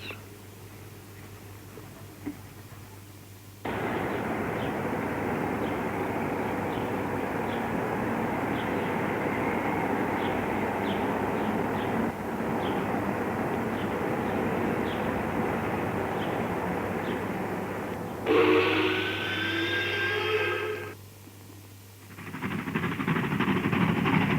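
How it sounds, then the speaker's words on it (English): An NSWGR C-38 class Pacific steam locomotive in 1960s express passenger service in Newcastle, a sustained loud roar of exhaust and running gear that holds steady for most of the stretch, then breaks into a brief harsher burst before a short lull. "the once majestic sound of the visibly impressive C-38s on regular railway service"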